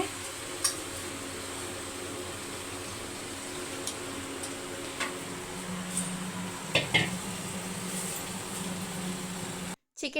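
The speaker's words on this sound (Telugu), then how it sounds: "అది మంచిగా వేగిన తర్వాత మంచిగా కడుక్కుని చికెన్ వేసుకోవాలి" Chicken fries in a hot pan for a home-style curry, a steady sizzle and hiss running throughout with occasional scrapes and clinks of a spoon stirring against the metal, close and moderately loud.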